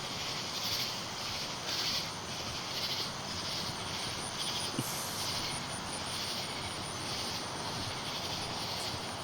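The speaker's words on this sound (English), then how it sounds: "I hope the cicadas aren't too loud" Cicadas in North Carolina buzz in a steady, dense high drone that fills the whole stretch, with slight pulsing swells and a faint low rumble beneath.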